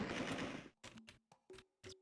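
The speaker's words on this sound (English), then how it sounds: "Gunfire in this game is terrible." Gunfire in the video game Call of Cthulhu: Dark Corners of the Earth: a noisy opening blast followed by four short, sharp shots in an uneven rhythm, each decaying quickly into silence.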